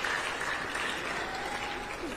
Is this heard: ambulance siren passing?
no